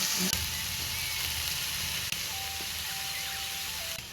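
Steady, fairly quiet sizzle of galangal and vegetables frying in a pan for a Javanese bamboo-shoot and bean dish, an even hiss with a faint tone running through it and no talk.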